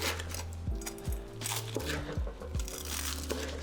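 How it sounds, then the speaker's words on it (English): Deep-fried tonkatsu pork cutlet with a crisp crust being bitten into, giving several loud, close crunches spaced about half a second apart, heard alone without talk. "That is the sound of a properly executed deep fried crust."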